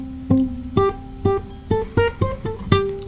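Fingerstyle acoustic guitar playing a xylophone riff from a song with pizzicato muting, about eight short, damped plucked notes in a steady rhythm, close and clear, with no speech.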